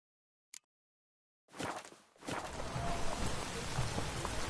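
Heavy rain pours down in The Witcher 3: Wild Hunt, a dense, steady hiss of a downpour drumming on surfaces that starts abruptly after a short click, dips briefly, then continues loud and unbroken.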